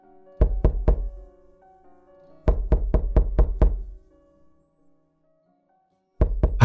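Knocking on a door comes in three groups of sharp, loud raps: three quick knocks, then a burst of six, then two more starting after a pause.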